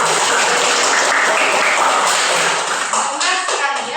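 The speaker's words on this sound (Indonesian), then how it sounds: "tepuk tangan untuk Isya." A classroom of junior high students claps for a classmate at SMP Negeri 9 Sabang, a dense, steady patter of hand claps filling the room at moderate loudness with no talk over it.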